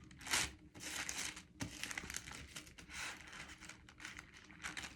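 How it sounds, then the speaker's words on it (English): Bible pages rustle and crinkle in bursts as someone flips through searching for a scripture, close and fairly quiet, with no talking. "when you can't find one, it's just rustling for like 10 minutes"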